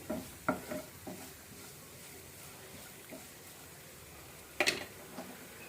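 Vegetables roasting and being stirred in a pan for oats idli, with scattered scraping and clinking strokes of a spoon against the pan, a brief louder cluster near the end, and a low background hiss.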